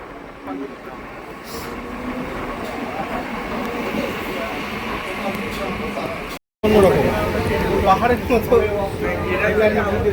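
A Katwa–Ahmedpur MEMU passenger train runs through rain with a steady, close rolling rumble. A person talks over it throughout, and there is a brief cut partway through.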